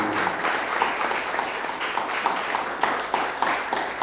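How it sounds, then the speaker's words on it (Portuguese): Congregation clapping in an Assembly of God church service, a steady round of applause with scattered louder claps, moderately loud and continuous. "Dê uma salva de palmas."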